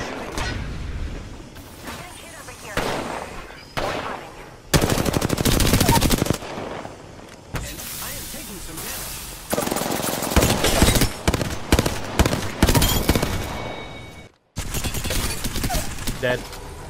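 Repeated bursts of automatic gunfire in a tactical shooter video game, loud and close, coming in several sharp volleys with short pauses between them, with players' voices talking over the shooting.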